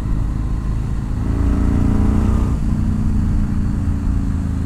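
A sportbike cruising on an open street at roughly highway speed, its steady engine drone rising slightly in pitch mid-ride with wind rush underneath, loud and continuous throughout with no talking.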